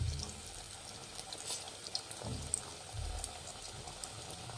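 Nippattu dough frying in hot oil gives a quiet, steady bubbling sizzle, with a few soft low thumps as pieces settle in the pan.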